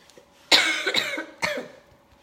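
Two separate bursts of coughing, a few harsh coughs in each, close and fairly loud, with quiet pauses between them and no talking.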